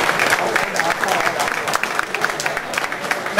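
Audience applause at a school reunion gathering, dense and steady, filling the whole stretch at fairly loud level with a continuous wash of many hands clapping and no break.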